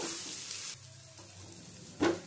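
A fish ball mixture with chopped coriander is stirred in a pan, producing a soft, faint sizzle with light scraping and one brief louder clink near the end.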